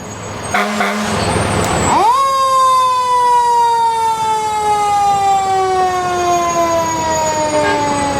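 Fire truck siren from a New Bremen Fire Department 2003 Pierce Dash pumper in a town parade, a loud rising wail that holds steady and slowly falls in pitch, close and continuous over street noise.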